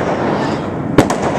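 Fireworks going off during Chinese New Year celebrations, with one sharp, loud burst followed by a second crack, heard over a steady wash of distant crackling and popping.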